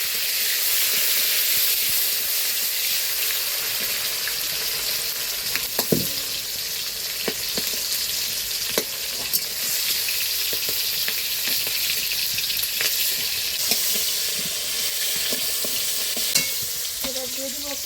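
Tomatoes with whole spices and panch phoron sputter in hot oil in a wok, a steady loud sizzle with stirring scrapes and a few sharp pops, no voices.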